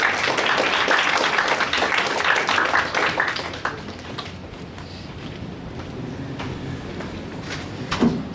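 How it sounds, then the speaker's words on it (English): Audience applause at a Cloud Native tech meetup in Kuala Lumpur, a dense clatter of clapping for several seconds that thins out and fades into scattered room noise. "A round of applause for him."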